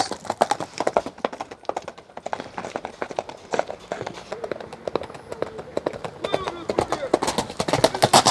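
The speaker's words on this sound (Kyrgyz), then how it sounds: "Аттын жүгүрүшү жакшы экен" A racing horse runs on open ground, its hooves striking in a fast, steady clip-clop of sharp beats that grows louder near the end, with voices around it.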